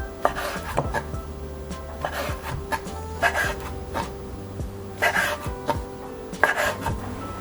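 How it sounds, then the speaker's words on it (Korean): A knife slices a thin egg crepe for gimbap on a cutting board, each stroke a crisp close tap in an uneven rhythm of repeated cuts, with no talking. "이렇게 만든 계란지단은 앞서 준비한 재료들과 비슷하게 썰어서 준비해주세요"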